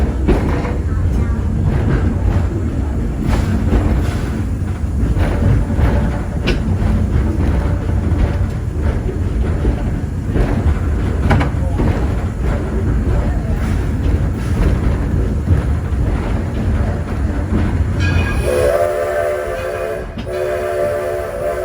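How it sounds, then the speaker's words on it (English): A diesel train rumbles loudly and steadily along the rails, its engine droning throughout, with a horn-like tone breaking in near the end. "diesel's pulling our second train today."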